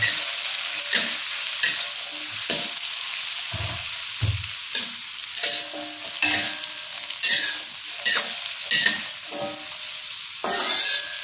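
Chili sambal paste sautéing in a little hot oil, a continuous close sizzle broken by repeated scraping stirs and spatula knocks against the pan, with no talking.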